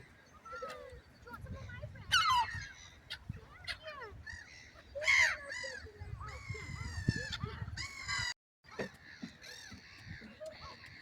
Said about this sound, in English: We wait for the seagulls to go away.